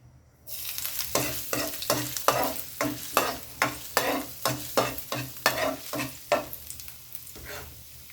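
Ginger sautéing in a pan for squid adobo, a steady close sizzle broken by a regular series of loud stirring scrapes, roughly a dozen rhythmic strokes before tapering off.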